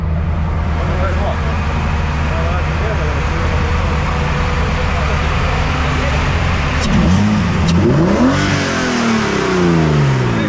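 A rally car engine at a Semi Pro rally stage in Molėtai, Lithuania, revs hard and rises in pitch, with steady engine drone throughout and a sweeping acceleration near the end; voices are faint underneath.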